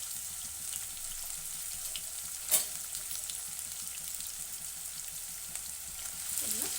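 Onions and curry leaves fry in a pan for a Rajma masala curry, a steady soft sizzle running throughout with one brief sharper crackle partway in, no one talking.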